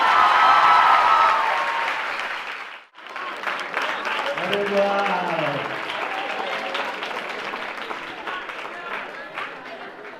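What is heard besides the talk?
audience applause welcoming a speaker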